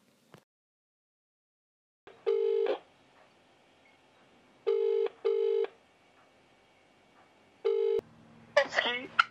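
An outgoing phone call rings unanswered: four evenly spaced ringback tones sound in pairs and singles over a faint line hiss, followed by a brief beep and a voice starting to speak.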